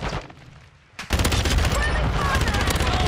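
A FAMAS (FR Avancer) rifle firing in Modern Warfare 2: after a short lull, a rapid, loud, continuous burst of automatic fire rattles close by to the end.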